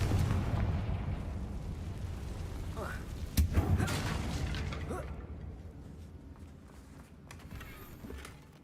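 A Confringo fire-blast spell goes off in the Hogwarts Legacy video game, a sharp booming burst around the middle of the clip over continuous game music and ambience, with smaller pops and a fading rumble after.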